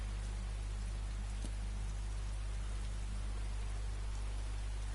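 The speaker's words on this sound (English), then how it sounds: "Hopefully this rain will stop soon." Steady rain in the video game Skyrim hisses as a constant, even wash at low volume over a low hum, with no talk.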